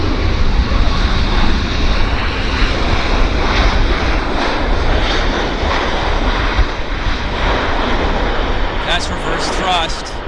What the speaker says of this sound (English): That's reverse thrust.